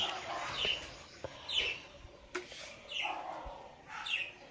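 A pet bird gives repeated bright chirps at roughly regular intervals, moderately close, over a quiet background with faint scattered knocks.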